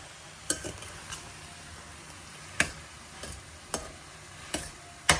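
Chopped broccoli stirred in a frying pan, with spaced sharp scrapes and knocks of the utensil against the pan over a soft sizzling hiss, no voices.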